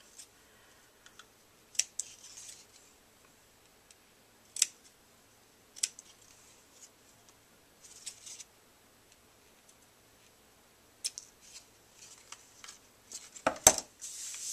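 Scissors snip a ribbon in a quiet room, with several short, crisp cuts spaced a few seconds apart and a quick cluster of snips near the end.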